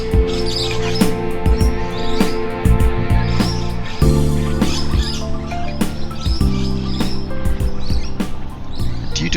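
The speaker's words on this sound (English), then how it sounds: "The noisy mynas are very aggressive and are constantly at war with all other birds" Noisy miners, aggressive Australian honeyeaters, calling constantly nearby with a busy mix of sharp repeated chirps and scolding notes over several seconds.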